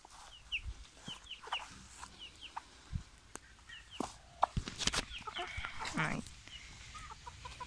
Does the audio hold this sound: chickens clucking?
yes